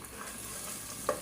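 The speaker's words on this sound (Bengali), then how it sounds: "একটু ভালো করে ভাজি।" Ginger, garlic, green chili and tomato paste fry in a pan for a chicken and papaya curry, giving a steady close sizzle with a faint stir or scrape near the end.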